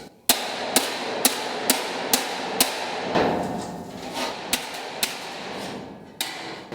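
Sharp metallic hammer blows strike sheet metal held on a dolly, shaping a car firewall, about a dozen evenly spaced hits with brief pauses, ringing close and loud over a faint background hiss.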